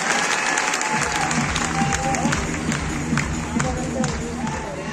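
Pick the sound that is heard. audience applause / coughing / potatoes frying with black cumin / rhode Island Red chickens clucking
audience applause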